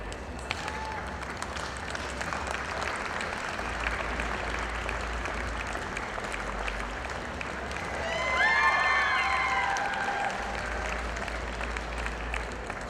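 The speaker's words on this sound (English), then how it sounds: "if you would receive them with a round of applause" An audience at a Jersey heifer show claps steadily for the champion heifers, a continuous patter of applause under a low murmur, swelling briefly midway with faint background chatter.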